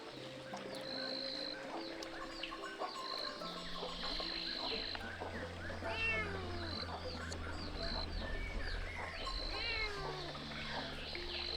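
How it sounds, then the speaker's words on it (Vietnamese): A cat meows repeatedly near an elderly woman's home at feeding time, drawn-out calls recurring throughout alongside faint background birds and insects. "Đây bà ơi, bà cho mèo ăn đi mà."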